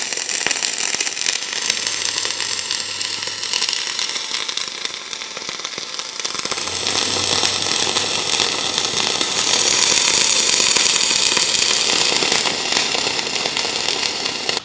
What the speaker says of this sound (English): I'll just set this on the table and weld the whole thing out